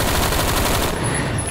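Rapid automatic gunfire in Phantom Forces, a dense, loud, continuous burst lasting just over a second with no pauses.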